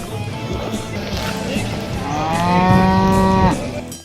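A cow moos in the cattle area of an Albanian agriculture fair, one long, loud, close low call rising out of a busy background of crowd noise.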